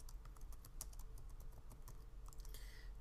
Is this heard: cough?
no